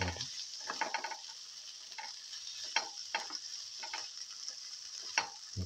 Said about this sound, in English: So keep on sauteing.